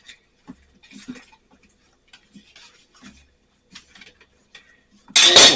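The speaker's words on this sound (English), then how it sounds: "we're going to cut a couple slices" A knife cuts slices of Spam with soft, sparse taps and ticks of the blade against the board. A loud burst of noise comes in abruptly at the end.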